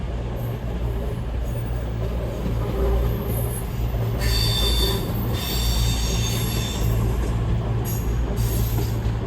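Train 221132 pulls out of Darlington bound for Edinburgh, with loud continuous rumble and clatter of wheels, bursts of high metallic wheel squeal, and steady engine drone close by, no voices.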